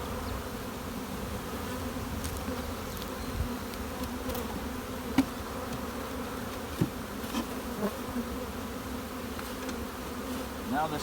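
A honey bee colony hums inside a hive box during a split, a dense continuous buzz close by with occasional louder individual bees passing.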